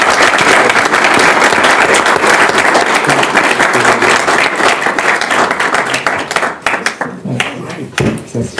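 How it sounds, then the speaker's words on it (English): A live audience at a conversation event with Mark Gevisser and Kwame Anthony Appiah breaks into a loud, dense round of clapping that carries on steadily, then thins into scattered claps and tapers off near the end. "let's give them a round of applause."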